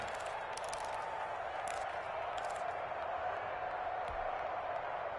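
A steady roar of a football stadium crowd rises in a PS4 American football video game ahead of a big third down, a dense, continuous wash of cheering with no clear breaks.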